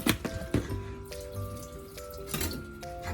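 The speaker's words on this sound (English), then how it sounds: "We're gonna put some cool water on it." Cool tap water runs and splashes into a large bucket holding chicken for a brine, a steady close pour with drips and sloshing that swells and eases over a few seconds.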